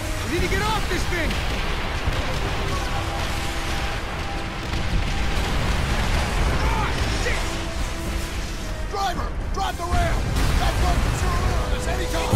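Dense, chaotic battle sounds in the video game Call of Duty: World at War, in a jungle battle, with repeated booms, crashes and rapid gunfire, continuous and loud, with shouting voices mixed in.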